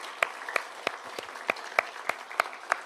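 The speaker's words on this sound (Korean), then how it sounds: "여러분들에게 박수를 보내겠습니다" A church congregation claps in distinct, evenly spaced claps at a steady rhythm, moderately loud in a reverberant room.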